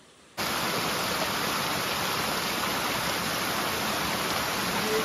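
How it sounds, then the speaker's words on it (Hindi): A waterfall at Tumjang near Haflong crashing into a deep gorge: a steady, dense roar of falling water that starts abruptly and stays constant and fairly loud throughout, with no voices. "वो वाटरफॉल।"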